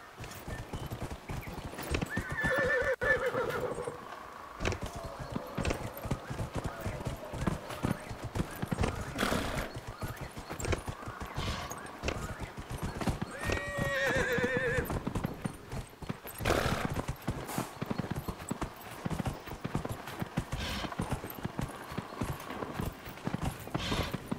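A horse gallops in the fantasy video game Dragon Age: Inquisition, rapid rhythmic hoofbeats clip-clopping steadily throughout with occasional neighs and whinnies, while a person talks over the game sound at times.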